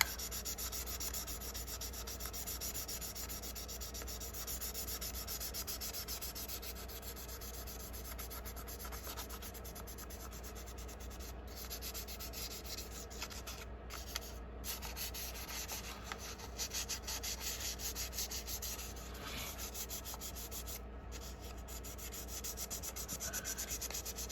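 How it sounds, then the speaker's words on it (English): Steady close rubbing of sandpaper over the primer coat on the body of a model race car kit, a continuous soft abrasive hiss with a constant low hum underneath. "If you can help it, don't sand through the primer coat."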